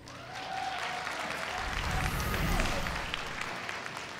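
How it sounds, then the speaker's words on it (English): A StarCraft II tournament crowd claps in a steady, polite round of applause, broad and sustained throughout, with a faint murmur of voices mixed underneath. "then like the polite round of applause, respect"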